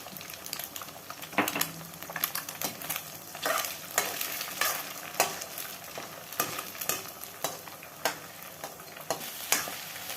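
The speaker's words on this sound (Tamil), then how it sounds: "முட்டை இந்த அளவுக்கு பொரிச்சாச்சு." An egg fries and sizzles in a pan for a roadside-style egg noodles dish, with a steady crackle broken by repeated stirring scrapes and clinks. No voices are heard.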